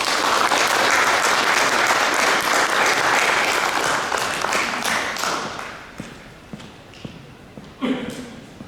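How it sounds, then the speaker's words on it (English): Audience applause at an evening public board meeting, a dense, steady ovation of many clapping hands that holds strongly for several seconds, then thins out and fades, with a few scattered late claps near the end. "giving him a round of applause"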